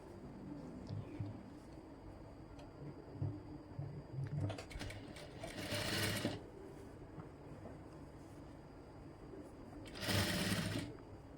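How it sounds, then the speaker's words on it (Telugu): A sewing machine stitches lining and main fabric together on a long frock, running in short close bursts with steady mechanical clatter, two of them louder whirring passes, over a quiet room. "ఇప్పుడు లైనింగ్ మెయిన్ ఫ్యాబ్రిక్ రెండు కలిపి ఇక్కడ స్టిచ్ అయితే వేసేసుకోవాలి"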